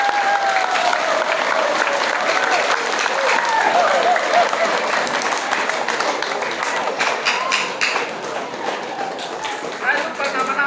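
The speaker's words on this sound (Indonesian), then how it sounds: "Tepuk tangan dulu, toh." Sustained crowd applause at a Christian senior high school ceremony in Atambua marking the 94th Youth Pledge Day, dense clapping running steadily throughout, with a voice speaking over it early on.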